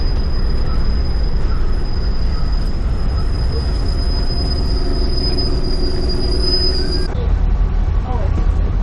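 An Amtrak Empire Builder train at the station in Whitefish, Montana, rumbles steadily and loud with a sustained high-pitched wheel squeal that drops out near the end.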